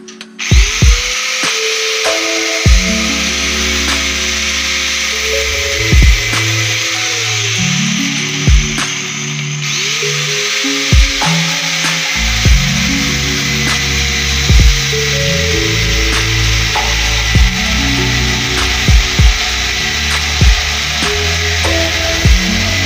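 Power tool cutting metal strips for an old Rajdoot motorcycle chassis, a loud sustained grinding whine that rises and falls in pitch as the blade bites, broken by sharp clanks and short spin-downs.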